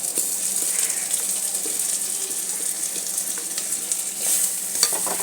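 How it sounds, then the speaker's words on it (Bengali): Spices and ginger paste hiss and sizzle in hot oil with fried onions in a pan, a steady close frying crackle with faint stirring scrapes throughout, no voices. "বাকি মশলাগুলো আমি এতে সব দিয়ে দিলাম আদা বাটা থেকে শুরু করে সব এতে ঢেলে দিলাম আমি"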